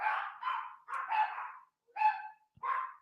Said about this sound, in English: My dog's losing their mind.